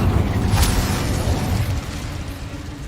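Incendio fire spell cast in Hogwarts Legacy: a sharp burst with a crackling whoosh early on, over a low rumbling roar that fades after about two seconds.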